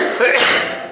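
A single short, sharp sneeze bursts out in a quiet indoor spoken session, loud and close.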